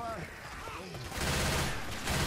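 Rapid gunfire from the zombie shooter Left 4 Dead 2 rattles as a dense, continuous barrage that grows louder halfway through, with a voice talking over it.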